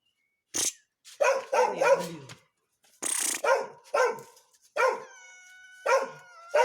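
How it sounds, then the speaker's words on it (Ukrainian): A dog barks repeatedly in short loud bursts, close by, with a few whimpering yips between, during a backyard scene where a cat climbed up after turtle-dove chicks. "шарик гавкає туди і гавкає"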